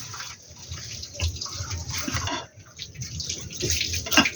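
Water runs and splashes while dishes are washed up at a beach campsite, an uneven rushing and spattering stream with brief dips and surges, close and fairly loud, with no one talking.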